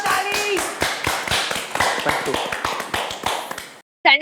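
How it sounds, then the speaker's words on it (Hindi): A crowd claps after a song at a comedy roast, giving a steady, dense burst of hand claps that stops abruptly, then a brief voice cuts in at the end. "ताली मारो, ताली।"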